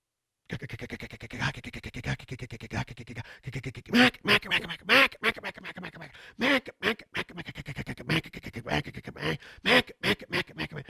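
A duck call made by Keith Allen, known as a refuge call, is blown close up to imitate a hen duck, giving a rapid, uneven series of loud nasal quacks with short gaps.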